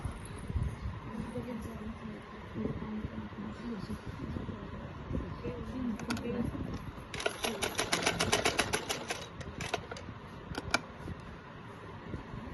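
A sewing machine stitches salwar fabric in bursts of rapid mechanical clatter, loudest in a run near the middle, over steady room noise while someone speaks throughout.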